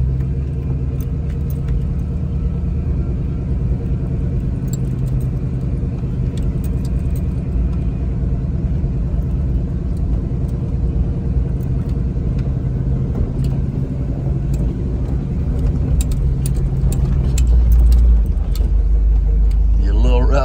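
A 1988 Chevy K-5 Blazer 4x4 rumbles along with a steady, low engine drone and road noise heard from inside, with occasional light rattles and a deeper surge near the end while people talk over it.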